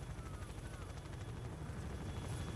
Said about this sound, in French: J'entends un hélicoptère là-bas.